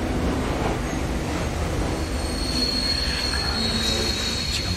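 Subway train in the Korean horror game The Coma 2, rumbling loudly and steadily with high metallic wheel squeal rising over it, with no voices.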